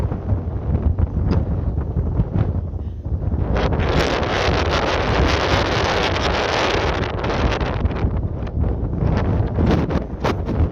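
Wind buffets a camera microphone outdoors near an old schoolhouse on a windy day, making loud, continuous rumbling gusts that swell in the middle of the stretch.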